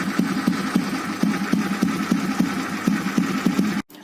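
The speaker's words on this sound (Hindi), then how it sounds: "मेरे बाइक का जो फायरिंग है वो बहुत ही स्मूथ हो गया है" An old Bullet motorcycle engine with a tuned VM-24 carburetor idles nearby, thumping in an even, regular beat of firing pulses before cutting off abruptly near the end.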